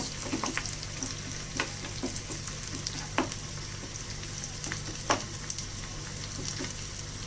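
Onions softening in a hot pan give off a continuous moderate sizzle, broken by a few sharp ticks of a stirring utensil against the pan, with no talking.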